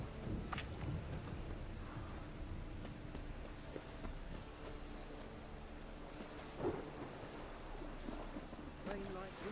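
Steady rain pours in The Witcher 3, with low rumbles of thunder rolling beneath the constant hiss and a few sharper cracks breaking through. The whole storm stays fairly quiet and distant.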